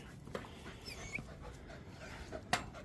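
Young puppies crowd around close by, panting quickly with small whimpers, soft scuffles and a few sharp yips and squeaks scattered through a quiet, low-level scene.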